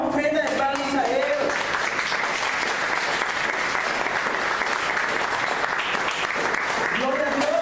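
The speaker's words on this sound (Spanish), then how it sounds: "Dar una ofrenda de palmas a Él." A church congregation claps together in sustained applause, loud and steady for several seconds, with a preacher's voice briefly heard at the start and again near the end.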